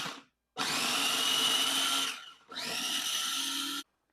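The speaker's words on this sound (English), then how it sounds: "I'm going to put them in my mini food processor, and I'm going to chop and grind them up" A mini food processor chopping strawberries whirs loudly in two bursts, the first about one and a half seconds long and the second slightly shorter, separated by a brief pause.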